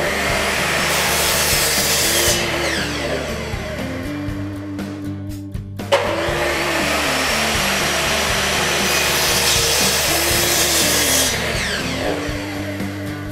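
A handsaw cuts a wooden board along a marked line, rhythmic rasping strokes close up with a brief pause midway before steady sawing resumes, part of making a friction pot turkey call.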